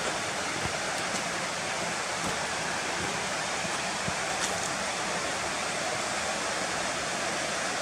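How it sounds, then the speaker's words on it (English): A stream rushing down to meet the River Nent near Garrigill, a steady broadband watery roar heard from a short distance, continuous with no talking. "that's a beautiful stream coming down to meet the river over there"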